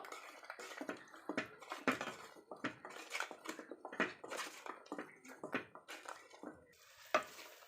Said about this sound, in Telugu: చక్కగా పచ్చివాసన అంతా పోయేంత వరకు ఫ్రై చేసుకోవాలి